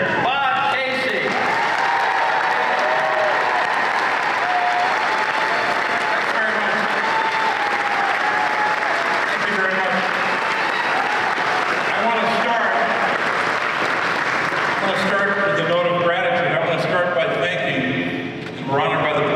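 Audience applause fills a university hall during a presidential speech on public safety, loud sustained clapping and cheering from a large crowd lasting well over fifteen seconds, with a voice speaking over it near the end.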